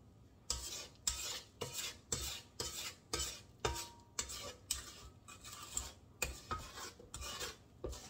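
A spatula scrapes down the sides of a mixing bowl of chocolate chip cookie dough in a quiet, steady series of about fourteen short rasping strokes, evenly spaced, with no talking.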